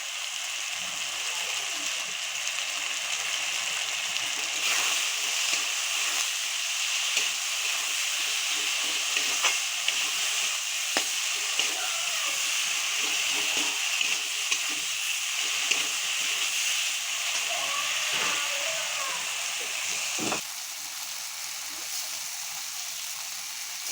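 Ground spices with chilli powder, turmeric and salt fry in a pan for matar paneer, producing a steady, close broadband sizzle and hiss that runs continuously, with occasional light scrapes and pops.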